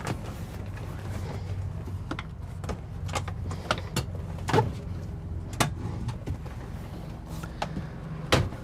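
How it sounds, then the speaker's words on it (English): The seat of a 2023 Winnebago Solis 59PX camper van being swiveled around, with scattered mechanical clunks and clicks over a quiet interior hum. "I'm going to go ahead and pivot this seat around."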